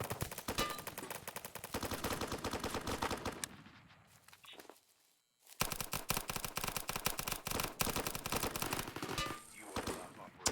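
Rapid automatic gunfire in the video game BRM5, loud and close, sustained bursts for several seconds, a brief near-silent pause, then more heavy continuous shooting.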